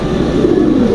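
A female pigeon from a pedigree loft coos in a low, soft throaty burble, close and continuous over a brief moment with no voices.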